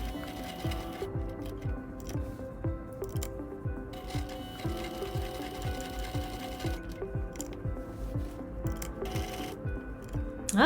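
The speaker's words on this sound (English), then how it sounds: "your sewing machine might need a little extra tender loving care" A sewing machine works through thick layers of fabric from a man's shirt, running steadily with rhythmic needle thumps that labor slightly at times, close and continuous with no talking.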